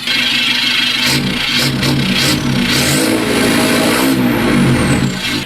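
An Isuzu D-Max All New Blue Power Spacecab Hi-Lander pickup revs loudly and close by, its exhaust note rising and falling through repeated throttle blips over a rumbling idle.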